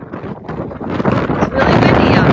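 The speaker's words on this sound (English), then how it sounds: "It's really windy out here." Strong wind on the Sea of Cortez buffets the microphone in loud, rumbling gusts that build toward the end, with a voice partly heard beneath it.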